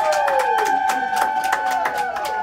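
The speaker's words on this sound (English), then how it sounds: "This video shared by Advent Health shows the cheers and applause erupting down a hospital hallway." Cheers and rhythmic clapping ring out down a hospital hallway as staff hold a clap-out for a COVID-19 survivor leaving after a months-long stay, with steady applause, whoops and a sustained tonal whistle-like sound throughout.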